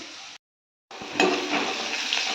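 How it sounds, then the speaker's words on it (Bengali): Bitter gourd pieces, seeds removed, fry in a pan with a steady broadband sizzle that breaks off briefly into silence, then returns louder and denser, with no talking. "তো করলার দানাগুলো ফেলে দিয়েছি, দিয়ে এইভাবে ঠিক ভেজে নিচ্ছি করলাগুলো।"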